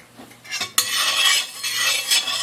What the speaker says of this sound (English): I'm just going to stir this until all that sugar is